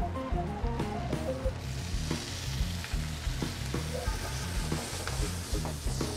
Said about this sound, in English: We're going to add some confit garlic. And here's where we add our capers.